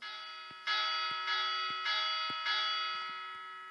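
Tolling sample of the church bell of St Vincent de Mâcon, played in GarageBand: four evenly spaced, ringing strikes with long sustained overtones over a faint, steady ticking.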